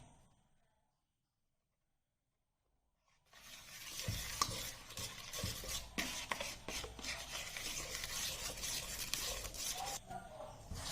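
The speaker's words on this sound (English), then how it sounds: "Now I've added all the wheat flour and mixed it" Wheat flour being stirred into a thick Christmas cake batter with dry fruit, a brief quiet start followed by continuous close scraping and wet mixing strokes with occasional knocks against the bowl.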